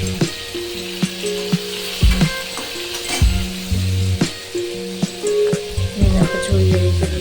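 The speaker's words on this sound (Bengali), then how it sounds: "এদিকে আমি কড়াইয়ে বসিয়ে দিয়েছি মাছ ভাজা" Fish sizzles loudly in a wok with steady crackling frying, broken by repeated metallic clanks and scrapes of a utensil against the pan.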